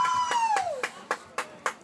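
Crowd at a high school football game claps in slow, evenly spaced claps, about one every quarter second, with a sustained whistle-like tone sliding downward at the start, moderately close.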